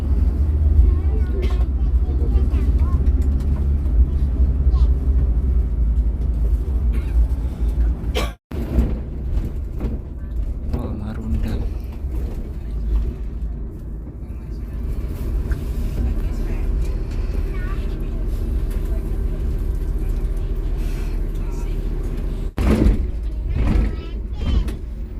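Inside a moving Rosalia Indah intercity bus travelling toward Karawang during the Mudik rush, a steady low road rumble and engine hum fill the cabin, broken by a couple of sharp knocks, while a voice talks over it.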